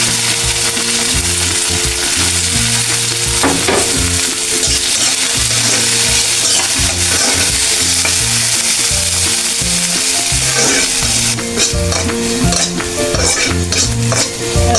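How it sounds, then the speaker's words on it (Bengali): Garlic frying in a pan for a spring onion bharta, a steady loud sizzle with stirring and occasional scrapes and clinks of a utensil, with background music throughout. "এখন আমি রসুনটা ভেজে নেব।"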